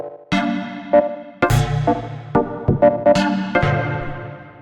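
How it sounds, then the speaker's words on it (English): Short deep house chord stabs on a synth, several plucked chords with quick attacks and decaying tails in an uneven rhythmic pattern, clear and solo. "the first thing that we have in the project here are these 3 short stabs"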